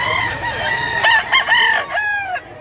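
A Black Hinner rooster, two to three years old, crows once nearby on a village farm in Mantalungon, Cebu. The call is loud and strained with a short wavering break near its end, and no one speaks.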